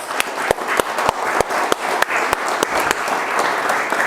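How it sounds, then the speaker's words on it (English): A lecture audience at a DNA and RNA sequencing talk gives a round of applause, a dense, even patter of many hands clapping nearby with a few sharper individual claps standing out. "One more round of applause."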